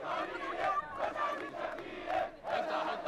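Protesters in Cairo shout and chant together at the parliament buildings, trying to break through a cordon. The roar is dense, continuous and rises and falls in waves, with no single voice standing out.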